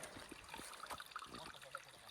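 A small stream trickles and babbles steadily nearby, a soft continuous watery wash with faint murmuring voices in the background.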